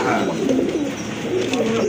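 Soft repeated coos from pigeons in a pair of Baghdadi pigeons including a female, close by, with someone talking over the birds.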